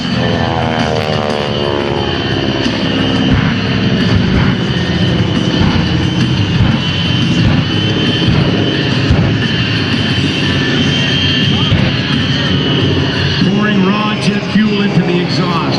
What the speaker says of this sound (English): Let's listen to the power of those 3 J34 jet engines